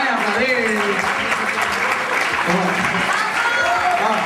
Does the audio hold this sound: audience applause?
yes